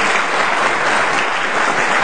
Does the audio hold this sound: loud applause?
yes